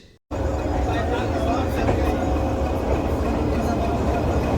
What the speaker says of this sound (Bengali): আমাদের ট্রেন দীনদয়াল উপাধ্যায় জংশন ছেড়ে রওনা দিল তার পরবর্তী গন্তব্যের উদ্দেশ্যে